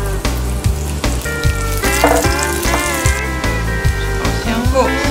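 Garlic fries in a hot wok with a loud, steady sizzle and crackle that carries on alone throughout, mixed with occasional clanks and scraping from stirring.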